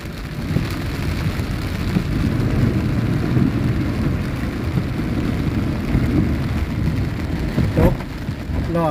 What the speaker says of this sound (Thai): รถก็ติดฝนก็ตกน้ำก็ท่วมพี่น้องเอ้ย